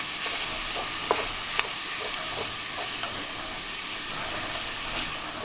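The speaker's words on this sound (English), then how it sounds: "once you have your chorizo broken apart and browned" Chorizo broken apart and browning in a pan on a Camp Chef camp stove, giving a steady, dense sizzle with a few soft taps from a utensil stirring it.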